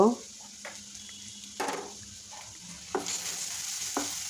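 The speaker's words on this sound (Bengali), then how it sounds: "পেঁয়াজ বেজে নেব" Onions fry in a pan with a soft continuous sizzle, broken by a few short scraping knocks of stirring spaced about a second apart.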